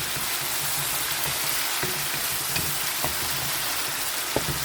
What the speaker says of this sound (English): Saute this until all the spices are infused wonderfully all together.